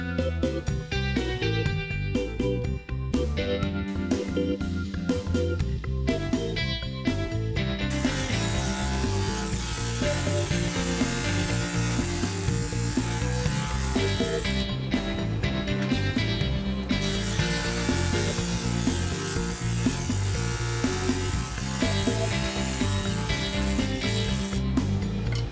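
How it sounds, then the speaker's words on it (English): A 1/16 dado chipper blade on a saw cuts a small groove along both sides of a 3/8 wooden block. It makes a loud, continuous grinding whine for about 25 seconds, with shifts in tone as the cut progresses. "Using the smallest blade I have, a 1/16 chipper blade for my dado set, I run a very small groove down both sides"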